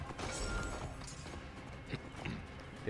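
Horse hooves clip-clopping on the ground in the Assassin's Creed Origins video game, a faint, short run of steps under ambient game sound.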